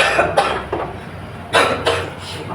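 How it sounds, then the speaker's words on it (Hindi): A math teacher coughs in a classroom lesson, a few short, sharp coughs spread over a couple of seconds, close and fairly loud with no talking. "थोड़ी सी खांसी हो गई है"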